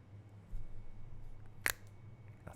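A dragon fruit cracks open in one sharp, close snap midway through, standing out against a low steady hum with no talking.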